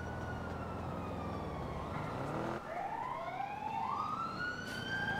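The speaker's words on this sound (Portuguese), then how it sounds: "É da ambulância, da ambulância." An ambulance siren in a video game wails continuously, sweeping down and then rising again in long glides over a constant engine and traffic rumble, with no voices.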